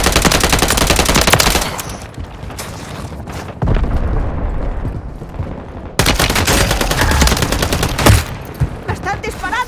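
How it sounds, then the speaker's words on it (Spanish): Loud, constant automatic gunfire in Modern Warfare 3's Invasion mode, with rapid rattling machine-gun bursts, heavy booms and overlapping shots from several weapons. Brief radio-style voice callouts sit under the battle. "¡Me están disparando!"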